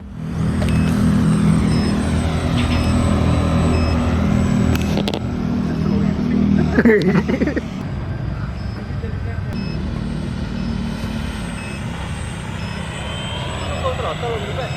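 A small cartoon-style RC model A6M Zero plane flies slow at under half throttle, its electric motor a steady buzzing drone that fades and shifts as it passes, with people talking nearby and wind noise.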